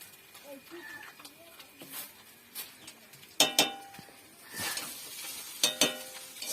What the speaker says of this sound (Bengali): দিয়ে এইভাবে আস্তে আস্তে হালকা আঁচে নাড়তে থাকবো